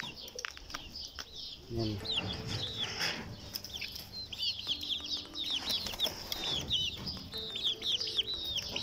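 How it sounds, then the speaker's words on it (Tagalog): Chickens on a mountain farm cluck and squawk in a busy, overlapping stream of short calls close by, heard under someone talking. "Ito yung chicken."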